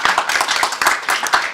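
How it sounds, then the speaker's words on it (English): Audience applause for nurses at a lung health check event, a brief close patter of individual hand claps with clear separate strikes. "So a round of applause to them, I would say."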